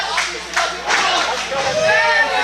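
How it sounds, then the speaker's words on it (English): Wrestling crowd at a CWF Mid-Atlantic event roaring and cheering for Lance Lude, with loud swelling bursts of voices and some clapping, a sustained noisy arena din throughout. "crowd getting behind Lance Lude again here."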